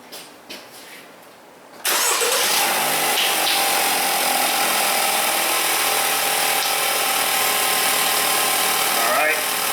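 A Chevrolet Malibu with an intake rocker arm solenoid fault cranks and catches after a brief quiet stretch of shuffling, then settles into a loud, steady idle that runs unbroken to the end.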